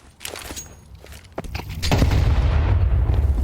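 A grenade detonates in Counter-Strike 2 during a professional IEM Cologne 2025 match between FaZe and Aurora, a heavy boom swelling into sustained rumbling debris, preceded by scattered game gunfire and impacts.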